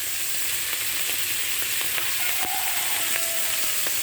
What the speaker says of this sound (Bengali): মাছ কিন্তু খুব বেশি আমি কড়া করে ভাজবো না